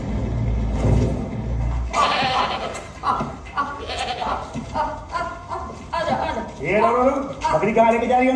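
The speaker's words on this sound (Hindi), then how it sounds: "बकरी कहाँ लेके जा रही है अंदर?" Goat bleating repeatedly, loud and close, in a street scene where people talk over the animal's wavering cries.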